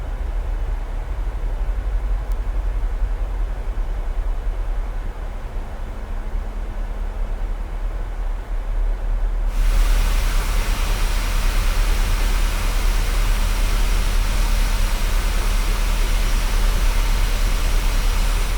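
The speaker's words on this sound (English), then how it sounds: "Let's listen to them beefy CFM 56s, shall we?" Beefy CFM56 jet engines on an airliner in Microsoft Flight Simulator make a steady, dense broadband roar, with a low hum and a marked jump to a louder, brighter rush about halfway through that then holds.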